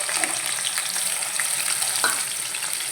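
Chopped onions and green chillies sizzle steadily in a hot pan of oil, a close, continuous frying hiss with faint stirring, heard without speech.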